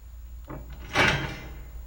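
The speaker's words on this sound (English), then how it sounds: "Another wooden door pitched down." A wooden door sound effect pitched down to a deep register: a soft knock-like creak, then a louder broadband thud as the door settles, fading into a low hum.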